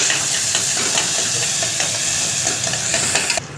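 Chopped onions frying in oil for chicken gravy make a loud, steady sizzle and hiss with occasional stirring scrapes throughout, cutting off abruptly near the end.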